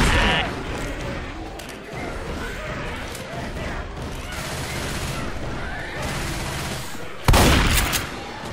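Gunfire in Left 4 Dead 2, a continuous chaotic clatter of shots under game voices, ending in a sudden loud bang near the close.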